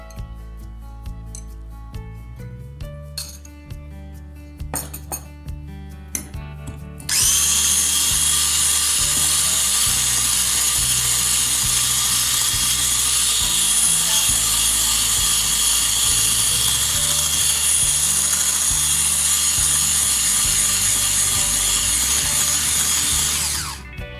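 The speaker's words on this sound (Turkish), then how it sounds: "Biraz çırptıktan sonra diğerini ekleyeceğiz." Electric hand mixer whisking eggs with vegetable oil for a crumbly cookie dough, a steady loud whir running continuously after a few seconds of quieter kitchen clatter.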